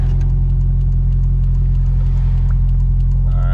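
A 2ZZ-GE Corolla race car's engine drones loud and close from inside the cabin, a steady low rumble with a constant hum and no clear revving change, no talk over it.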